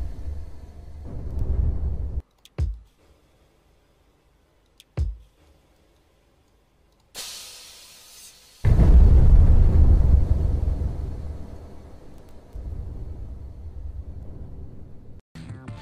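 Rocket thrusters fire in a Unity-built physics game, giving a loud roaring burst of low rumble that swells after a few short clicks and thuds, then settles into a steadier, quieter thrust noise toward the end.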